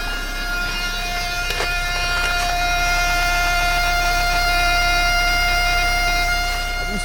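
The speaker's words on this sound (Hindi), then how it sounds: "अब देखो फ्यूल पंप की आवाज़।" A diesel vehicle's fuel pump runs after the starter is engaged in -30°C cold, heard as a steady, continuous whine with sustained tonal hum and a constant mechanical drone, close and fairly loud, with no talk over it.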